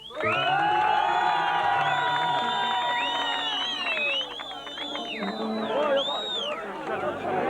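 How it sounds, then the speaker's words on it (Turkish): A wedding crowd in Xırdalan cheers loudly, with whoops and shouts over scattered clapping, a lively, dense mass of voices that dips briefly midway and then swells again. "Bir de Hacı Erşen'i alkışlayalım."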